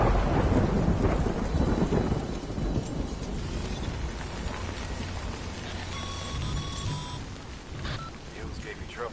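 Rain and rumbling thunder in the video game Death Stranding form a steady, fairly loud wash, with a voice talking over it and a few faint tonal game sounds midway.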